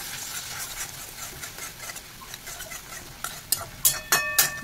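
Spice masala with Kashmiri chilli and salt being stirred and fried in a pan, a soft steady sizzle with a spoon scraping and clinking sharply against the metal toward the end.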